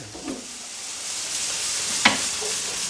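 Vegetables fry in a hot pan with a steady, close hiss of sizzling oil and a few brief stirring clatters, without speech.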